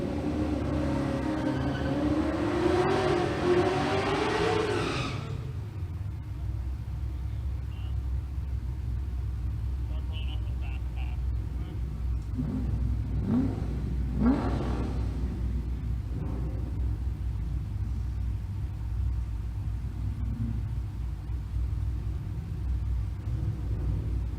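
A Pontiac GTO and a Chevrolet El Camino drag racing at a drag strip. A loud engine roar fills the first five seconds and then cuts off, leaving a quieter rumble with a few brief distant bursts of noise.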